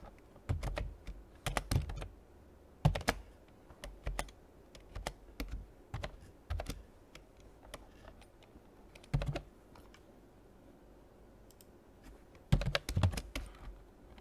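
Computer keyboard typed on in irregular bursts of quick clicks with short pauses while writing a style tag in web code, close and clear with no voice over it.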